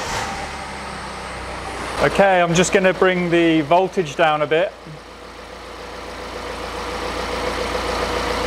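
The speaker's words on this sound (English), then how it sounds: "Let's start the engine and see what we get." A car engine idles with a steady low hum throughout during coolant-tank testing, while someone talks close by over it midway.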